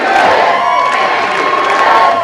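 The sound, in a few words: crowd chanting in approval at campaign rally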